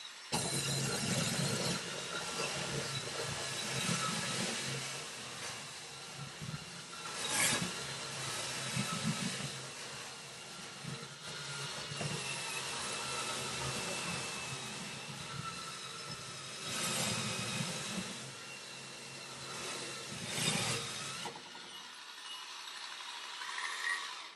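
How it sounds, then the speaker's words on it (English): A Wafting 9-in-1 electric spin scrubber runs steadily while working through grease, without its extension fitted, giving a continuous whirring motor drone with brushy hiss that swells and dips over the whole stretch before cutting off near the end. "that's where the electric spin scrubber will come into play"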